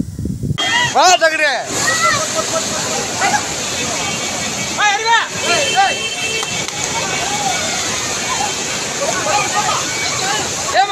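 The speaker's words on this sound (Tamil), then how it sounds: "அங்கே ஸ்ட்ரெயிட்டாக மலையிலேருந்து தண்ணி வருது" Flash-flood water rushes down from the mountain at Kutralam in a loud, continuous roar, while people shout and talk excitedly over the torrent throughout.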